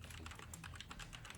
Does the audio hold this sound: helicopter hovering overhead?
no